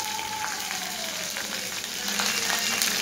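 Sliced onions, curry leaves and tamarind sauté in hot oil for a coconut-free idli and dosa chutney, a constant close sizzle and crackle with faint stirring scrapes that swells slightly toward the end.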